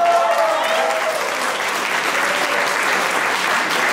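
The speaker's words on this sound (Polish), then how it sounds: "Wielkie brawa, wielkie brawa." Wedding guests at an oczepiny reception in Otwock Wielki give the newlyweds loud, sustained applause, a thick continuous crowd clap that holds steady throughout.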